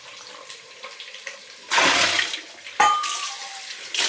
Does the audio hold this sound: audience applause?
no